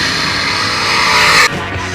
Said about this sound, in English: the wave lap for the 305 sprint cars as they come down the front stretch